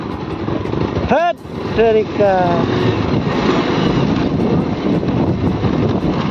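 A Bajaj Pulsar 220F motorcycle rides off-road, its engine rising and falling in a few quick revving sweeps near the start. Steady, heavy wind rush buffets the microphone throughout.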